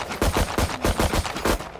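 Sheriff revolver shots in Valorant ring out in a quick, evenly spaced string of about six loud, sharp cracks, close and alone.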